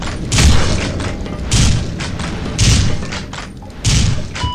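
Shotgun blasts in a From Dusk till Dawn video game, four loud booming shots spaced about a second apart over steady background game noise, no voices.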